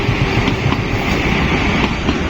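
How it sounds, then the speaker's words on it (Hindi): A Vande Bharat train from Katra pulls into Budgam station with a steady, loud rumble of wheels and carriages passing close by, a continuous roar with faint rhythmic clicks. "अभी वंदे भारत आ रही है कटरा से"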